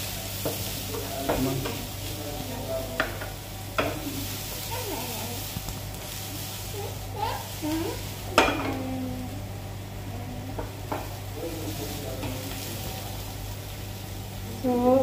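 Finely chopped onions sizzle and fry in a pan while being stirred, with scraping utensil strokes and occasional clinks against the pan, steady close sizzle throughout with no talking.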